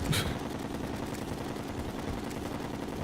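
Homing shots firing in the video game Terraria, a sharp burst at the start followed by a steady dense rattle of game effects throughout, fairly quiet and with no talking.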